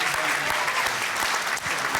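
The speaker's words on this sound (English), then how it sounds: "I want you all to give yourselves a round of applause for being here," Applause from the audience at a police reform and accountability town hall in Chicago, a continuous, loud wash of clapping throughout.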